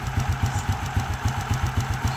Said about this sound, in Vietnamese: Máy nổ thì thầm